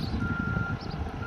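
Reversing beeper on a construction machine at a river regulator works, a steady tonal beep held under low engine and outdoor rumble, heard from a moderate distance.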